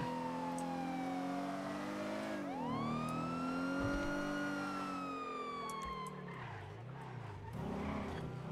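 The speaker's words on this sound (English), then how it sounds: "These guys running from the sirens." A loud wailing police siren sweeps up and down in pitch, with a second siren overlapping and steady engine rumble underneath.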